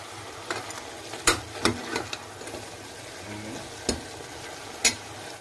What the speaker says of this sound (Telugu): కొద్దిగా నూనెలో బాగా వేయిద్దాము మటన్ని కొద్దిసేపు వేయిస్తే